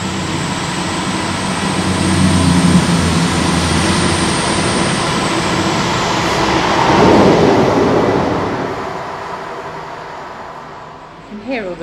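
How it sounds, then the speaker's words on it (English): A train crosses a railway bridge over a canal in Birmingham, heard from a narrowboat passing beneath: a sustained rumbling roar with clattering that swells twice and then fades, while people talk underneath. "And here comes a train on cue."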